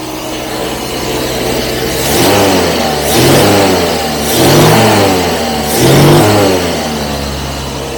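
A Jaguar V12 running rough on missing cylinders idles unevenly, then swells through four separate revs, each rising and falling back to a lumpy idle, loud and close.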